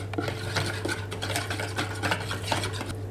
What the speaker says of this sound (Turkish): Ekleyip tekrardan karıştırıyorum.